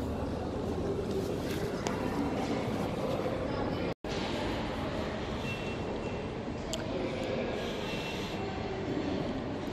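A train at a railway station gives a steady, loud rolling rumble with faint squeals. The sound cuts out sharply for a moment partway through, then resumes just as loud.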